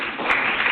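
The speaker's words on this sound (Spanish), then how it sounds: "¿Queréis aplaudir? Pues aplaudid." Brief scattered hand clapping from a small audience at a talk, soft and muffled, lasting under a second.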